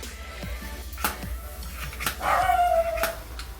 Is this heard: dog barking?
yes